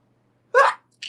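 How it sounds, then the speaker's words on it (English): A single person's sneeze, one sharp burst followed by a brief fainter breathy tail, close and alone in quiet surroundings. "See, I'm gonna sneeze again. Here it comes."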